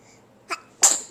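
A small baby sneezes: a soft intake catch followed by a sharp, bright sneeze burst, close and clear in a quiet room.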